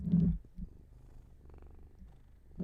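A cat purrs close up in soft, rumbling pulses, low and steady with a couple of louder breaths, with no talking.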